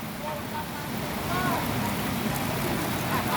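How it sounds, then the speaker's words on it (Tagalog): Steady, dense heavy rain hisses across a broad wash of noise at a construction site, constant and fairly loud, with a faint rumble underneath. "Lakas-lakas ng ulan"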